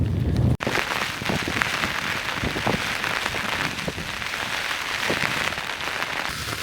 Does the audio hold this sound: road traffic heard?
no